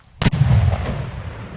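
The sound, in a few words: small controlled explosive charge detonated at mountain foot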